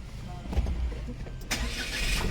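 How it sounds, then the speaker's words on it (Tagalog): A Suzuki DA17W engine starting by push button: a short starter crank that fires into a close, low engine rumble over the last second. "Ayan, ayan na po yung kanyang starting, push start."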